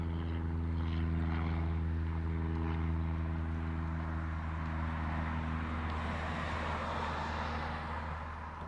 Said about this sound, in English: We do have that brand new FedEx Sky Courier coming this way.